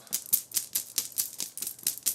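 Stone mining tokens shuffled inside a board game draw bag make a series of quick, crisp clattering rattles in steady bursts, close and alone.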